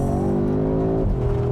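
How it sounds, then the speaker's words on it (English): 2022 Audi S3 with a 2-liter turbo engine accelerating, exhaust droning and rising in pitch before a quick shift drops the tone, loud and close from inside the car. "Audi is slightly augmenting the noise here, but you can hear the exhaust of this thing"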